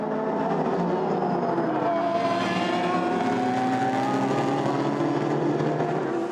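Race cars including a BMW, Ford and Corvette in the 24 Hours of Le Mans, heard on board as a steady, loud engine drone with shifting pitch, continuous throughout with no talking.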